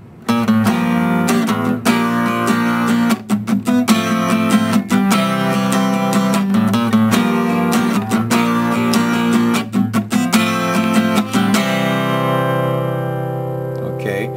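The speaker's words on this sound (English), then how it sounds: "muting with this hand, just kind of going like that" Close, loud guitar chords strummed rhythmically, with short gaps choked by palm muting between strokes giving a clipped, muted pulse; ends on a ringing chord.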